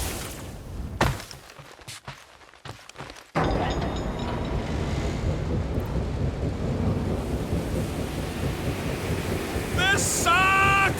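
Tremendous wind gusts in Guardians of the Galaxy roar into a loud, continuous rushing blast after a few seconds of broken, choppy noise, with bright chiming game tones appearing near the end.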